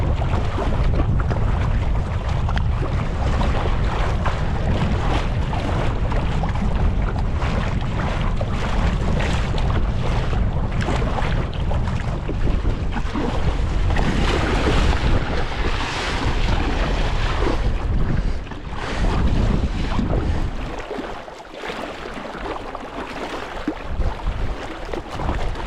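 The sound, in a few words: waves and wind around kayak on lake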